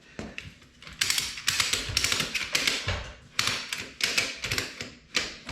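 A Harbor Freight tire changer being cinched up with a ratcheting mechanism, a series of sharp, rapid clicking ratchet bursts close by, with no speech.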